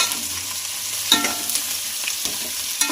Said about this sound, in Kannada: ನೀಟಾಗಿ ಮಿಕ್ಸ್ ಮಾಡ್ಕೋತಾ ಇದ್ದೀವಿ.